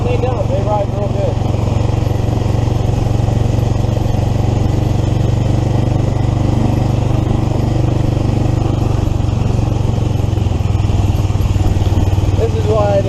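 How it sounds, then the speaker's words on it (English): A three-wheel 1982 EZ-GO golf cart fitted with a Predator 420cc engine drives along, its small engine droning steadily and loud up close throughout, with a voice talking over it. "We'll come back and we'll go down across that with a 3-wheel golf cart."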